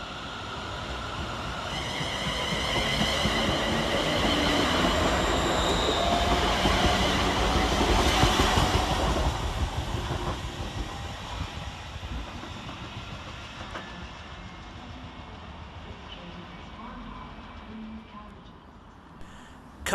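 Scotrail Class 380 electric multiple unit pulling away from a platform at Paisley Gilmour Street, a loud rising rumble and whine with rail clatter that swells, then fades steadily into the distance, with a faint voice nearby.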